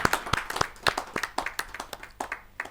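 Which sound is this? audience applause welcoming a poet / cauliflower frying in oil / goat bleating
audience applause welcoming a poet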